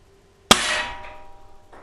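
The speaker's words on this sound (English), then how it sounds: "Let's put some shots downrange here." Sig Sauer Spartan CO2 BB pistol fired at a target, a single sharp metallic clang with a ringing decay, then a faint second tap, close and loud against near silence.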